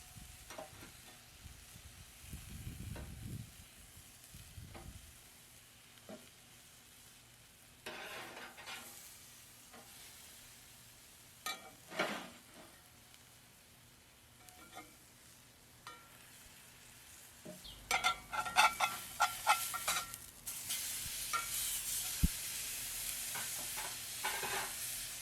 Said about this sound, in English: I'm going to finish all three of these burgers in the pan